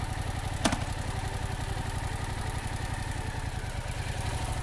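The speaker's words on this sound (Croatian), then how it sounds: "možemo malo više pozornosti obratiti na zvuk motora koji se zapravo lagano promijeni u tom trenutku kada motor počne vući" A motorcycle engine idles close by at a steady, even throb while the clutch engages and the revs dip slightly; a brief click sounds near the start.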